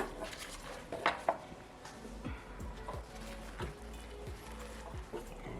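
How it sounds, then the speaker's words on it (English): A knife sawing through cooked brisket on a board, made up of a series of soft, rhythmic strokes and scrapes with a few sharper clinks, close and fairly quiet. "I'm gonna just cut in the middle."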